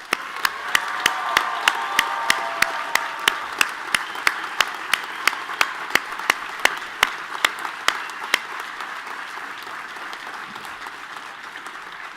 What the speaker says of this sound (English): please join me in one more big round of applause for all of our newest second lieutenants